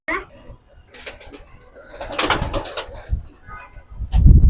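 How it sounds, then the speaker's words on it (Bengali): King pigeons coo in a low, repeated burble at close range, mixed with rustling and handling noise and a passing voice, ending in a loud rumble. "একটা কিং কবুতর আমার"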